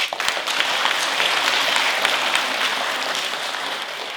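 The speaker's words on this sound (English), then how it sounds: "We need to give them a huge round of applause." A crowd applauds Champions League winners with steady, dense clapping that holds at an even level throughout, with scattered sharper claps standing out and no voices heard.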